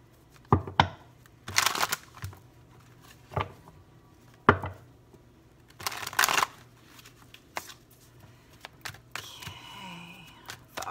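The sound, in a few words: shuffling tarot cards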